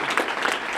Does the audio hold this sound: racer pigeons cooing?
no